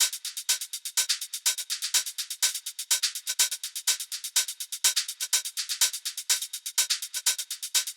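Processed hi-hat and shaker loop with a short delay adding small room-like reflections, playing a steady, busy rhythmic pattern of crisp bright ticks and shuffles throughout, moderately loud and alone.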